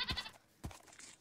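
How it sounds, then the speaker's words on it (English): A Minecraft goat bleats twice in quick succession, short nasal wavering cries, fairly quiet and close, with a little low game noise between them. "The goat!"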